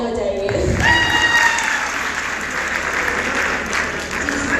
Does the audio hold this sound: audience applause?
yes